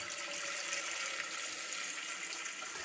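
Tap water running steadily into a pot, set up as a water bath for melting oil and wax for homemade lip balm; a continuous close, even hiss of flowing water with no talk.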